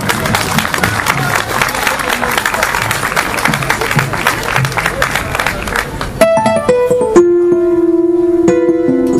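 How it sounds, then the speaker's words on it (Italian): Audience applause at an outdoor May Day festival concert in Manduria: a dense, loud wash of clapping and crowd noise for about six seconds, then cut off as sustained musical notes take over. "Un applauso."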